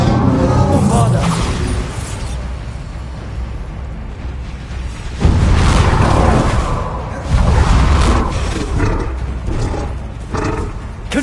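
Bombarda spell blasts in Hogwarts Legacy, loud roaring booms that hit in a couple of heavy bursts, each rumbling and decaying before the next, amid dense battle noise.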